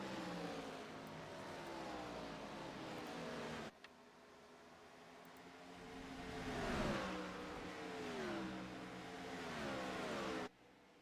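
Race cars in a racing video game sweep through a turn at Watkins Glen, engines revving and shifting in rising, wavering tones, one sharp cut midway, with steady loud drone throughout.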